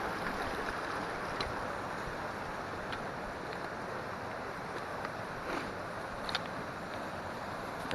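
A small waterfall in a creek pours in a steady, broadband rush of falling water, constant and close with no voices.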